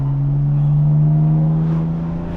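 BMW F82 M4 engine running with exhaust valves open, a loud, steady deep drone at constant revs with a rich harmonic rasp, close and continuous throughout.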